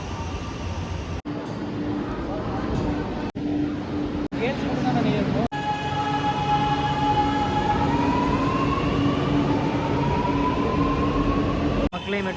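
A Chennai metro train rumbles and hums steadily, with a rising whine of motors and rail noise throughout, loud and near, broken by a few abrupt cuts.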